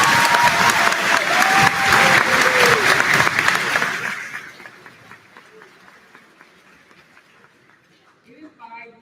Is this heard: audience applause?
yes